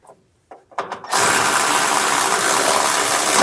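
Power tool tightening a nut on a Toyota truck vapor charcoal canister, a few short blips then a loud, continuous whirring run close up.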